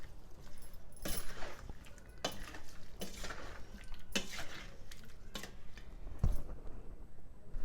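Lemons tossed with lemon juice, salt and turmeric for a pickle give off wet squelching and a series of clacking, rustling bursts as they are mixed by hand, close and moderately quiet.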